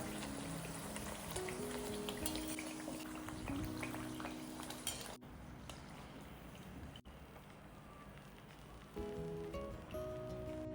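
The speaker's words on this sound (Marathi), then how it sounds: "सर्व पुऱ्यांना अशाच पद्धतीने तळून घ्यायच्या" Puris of jaggery dough frying in hot oil, a constant dense sizzle and bubbling that carries on throughout, close and steady, with faint music underneath.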